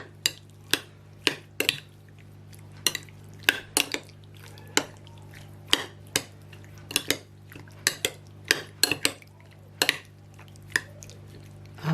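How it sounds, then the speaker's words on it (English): A utensil clinks against a bowl while chicken is mixed with soy sauce and sunflower oil into a marinade, giving an uneven series of sharp taps and scrapes with soft wet squishes between them, close up and with no talk. "Mix it up and let it marinate for about 10 minutes."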